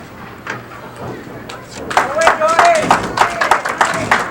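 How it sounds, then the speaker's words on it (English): A burst of hand clapping from a crowd at a bowling competition swells and continues, with a voice talking over it at the start. "The applause for Dottie Larick"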